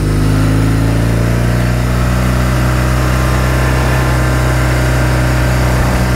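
Car engine climbing Passo Sella in the Dolomites in first gear, a steady loud mid-pitched drone with a slight rise in revs early on, continuous throughout with no voices.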